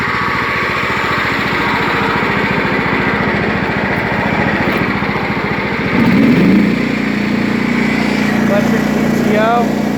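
A John Deere STX38 lawn tractor with a 5-speed transmission and bagger runs steadily up close, its engine a continuous pulsing drone that deepens and grows louder partway through, with a brief rising whine near the end.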